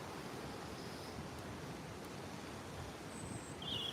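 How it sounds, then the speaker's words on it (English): Wind blows over the Norfolk Broads near a boat, a soft, steady broadband rush with faint high chirps of birds briefly breaking through. "Oh, it's getting windy. I don't know if you can hear it."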